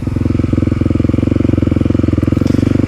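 A Kawasaki KLX300 dirt bike engine runs steadily close by, a loud, rapid pulsing thump with a slight lift near the end and no voices over it.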